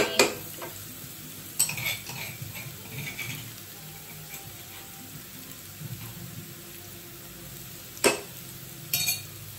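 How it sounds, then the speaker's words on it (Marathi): Onion, turmeric, garlic and crushed chilli sautéing in a pan, a soft sizzle under intermittent stirring scrapes and a few sharp clinks of a utensil against the pan, heard close without speech. "आणि आता छान असं हे परतून घेऊयात."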